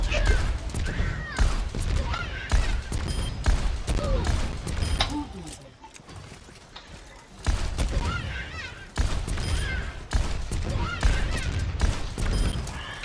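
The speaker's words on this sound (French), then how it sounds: "Donc Pharah elle a un lance-roquette. Je fais ça." Rocket launcher fire from the hero Pharah in Overwatch: a rapid series of sharp blasts and explosive bursts, loud and dense, breaking off briefly midway before the barrage resumes.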